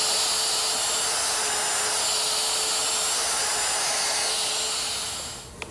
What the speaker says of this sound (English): Now we'll make a series of holes down the back edge of the cabinet.